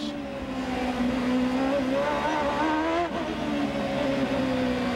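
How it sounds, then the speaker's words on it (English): A Honda-powered CART race car engine held at low RPM in second gear on the Long Beach street circuit in 1999, a loud, steady buzzing drone with wavering pitch that briefly dips and recovers. "You can hear him working that Honda engine in the low RPM band in 2nd gear"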